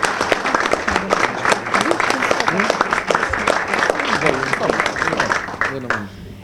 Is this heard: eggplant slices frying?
no